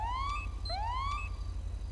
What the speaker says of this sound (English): Should hear sirens now